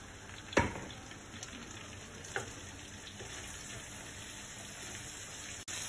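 Bok choy and sweet soy sauce stir-frying in a pan for Indonesian nasi goreng kampung, a steady soft sizzle with a few sharp utensil scrapes and clicks, fairly quiet and without talk.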